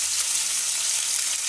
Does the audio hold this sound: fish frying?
yes